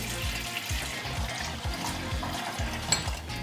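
Cold tap water runs and splashes over a freshly boiled egg in a kitchen, a steady close pouring wash with small clunks and knocks of the egg and container throughout.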